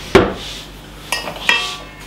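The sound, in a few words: getting a spatula out in the kitchen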